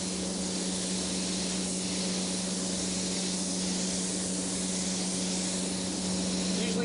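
An airbrush lays a wet coat of tangerine candy paint in a continuous, close hiss of spray. The sound holds steady throughout with no breaks.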